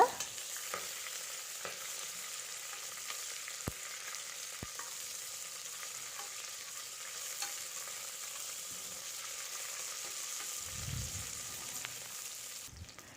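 Ghee rice ingredients sautéing in ghee give a faint, steady sizzle with occasional light clicks of a spoon and a soft low rumble near the end, no talking.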